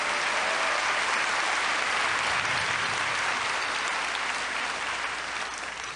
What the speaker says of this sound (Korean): 먼저 그분들에게 한번 격려의 박수를 크게 한번 해주셨으면 좋겠습니다.